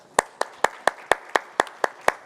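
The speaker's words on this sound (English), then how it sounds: "let's all give Pat Vance and her team a round of applause" Sparse, evenly spaced clapping with about nine sharp claps, a few hands in steady rhythm at a tech industry conference honoring the ESRB's 20th anniversary, close and fairly clear.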